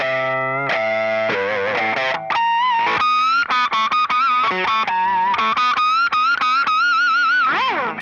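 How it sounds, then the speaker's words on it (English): Electric guitar run through distortion and effects, played as artificial harmonics high up the neck: a busy string of bright, ringing pinched notes with bends and wavering pitch, loud and continuous with no talking. "if you were to play artificial harmonics way up here, they're more difficult to grab"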